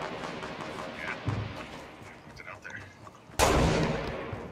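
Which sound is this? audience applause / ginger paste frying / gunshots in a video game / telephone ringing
gunshots in a video game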